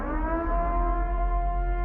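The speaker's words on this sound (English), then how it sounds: "Yeah, it's the purge siren." A sustained, wavering siren tone with layered harmonics, billed as a purge siren, holds steady and loud for the whole stretch, with no talking.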